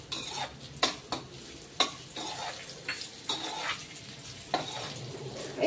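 Cashews and raisins are stirred in sizzling ghee for carrot halwa, with a spoon scraping the pan in irregular clinks and strokes over a soft, close frying hiss.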